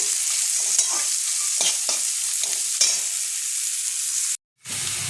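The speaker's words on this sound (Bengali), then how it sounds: "নারকেলটা একটু হালকা ভাজা ভাজা হয়ে যাবে।" Grated coconut and chickpeas fry in a pan for a Bengali-style sweet pumpkin dish, giving a steady close sizzle with scattered scraping stir clicks, then a brief silent gap near the end before the sizzling resumes.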